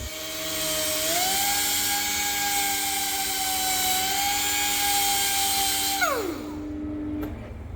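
A steady high-pitched motorized whine of a belt sander deburring the chamfer edge of a metal cylinder rod for a CAT 18M grader, running continuously, holding one tone, then winding down as the motor shuts off near the end.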